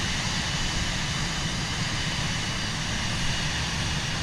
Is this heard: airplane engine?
yes